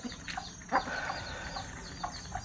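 Chickens cluck softly in the background during morning feeding, with a few short calls rising above a steady, busy outdoor ambience.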